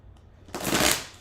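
A deck of tarot cards is shuffled once in a quick riffle, a close, crisp burst of flapping paper that swells and fades within a second, with no talking.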